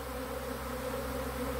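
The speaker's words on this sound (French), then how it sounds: "des milliers d'abeilles tout d'un coup qui arrivent pour choisir une nouvelle demeure et qui rentrent" Thousands of honeybees in a swarm arriving at a new hive on a sunny day among flowers, a dense continuous buzzing drone that holds steady and close throughout, with no voices.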